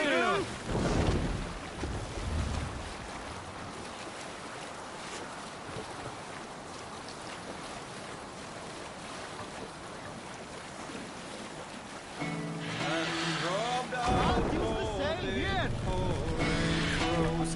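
A boat sails across open water in Valheim, with a steady wash of waves and wind whooshing past; a voice and brighter tones rise in the last few seconds.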